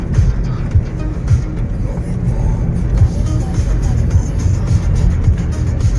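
A ZIL-130 truck drives out of town on a rough road: a continuous low engine drone and cab rumble with bumps and rattles, close and fairly loud, and no voices on top.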